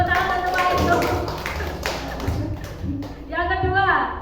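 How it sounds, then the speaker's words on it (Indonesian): Classroom clapping for a teacher at a school, scattered hand claps and taps with voices talking over them, fairly close and uneven in rhythm. "Tepuk tangan untuk Pak itu."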